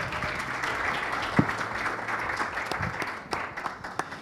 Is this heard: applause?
yes